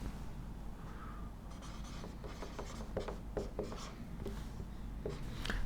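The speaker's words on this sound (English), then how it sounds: "I will write it up there" A marker or chalk writing an equation on a lecture board, steady scratchy strokes and taps over several seconds, close and moderately quiet with a low room hum beneath.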